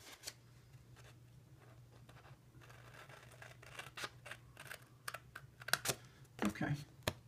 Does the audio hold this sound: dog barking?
no